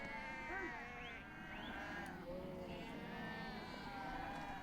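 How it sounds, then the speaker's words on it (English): A flock of sheep grazing on pasture during a migration in Georgia bleats repeatedly, overlapping calls near and farther off over a steady outdoor background. "let the sheep graze on neighbouring pasture"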